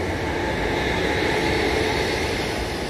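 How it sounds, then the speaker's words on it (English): A train rumbling past at steady volume, a continuous broad roar with rail noise that holds level throughout, heard alone without talk. "that's the train just going past"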